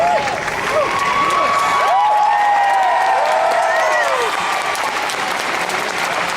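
A convention panel audience at WonderCon 2019 applauds steadily throughout, dense clapping with a few whoops and whistles rising above it.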